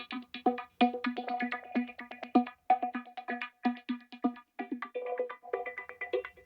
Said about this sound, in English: The next thing I added in was this subtle pluck sound.